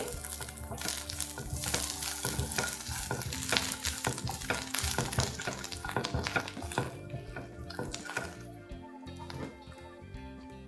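Mint leaves and coriander stirred into amla thecha in a pan with the heat switched off, busy metallic spoon scrapes and clinks against the pan over a faint sizzle, close and rhythmic, easing toward the end.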